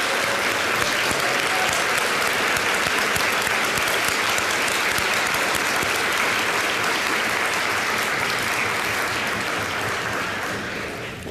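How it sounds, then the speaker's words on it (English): Sustained, dense applause from a large audience at the Seattle Colleges convocation, steady and loud for about eleven seconds before starting to taper off. "How about a big round of applause for Stephanie Dykes?"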